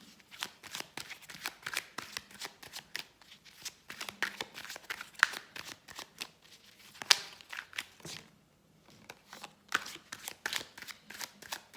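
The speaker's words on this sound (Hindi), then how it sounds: "अब हम इसके लिए राइडर वेट से क्लैरिफिकेशन के कार्ड्स निकालते हैं टू एक्सप्लेन दिस मोर" Rider-Waite tarot cards are shuffled and drawn in a quiet room, giving a steady run of soft riffling flicks and slaps with a brief pause near the end.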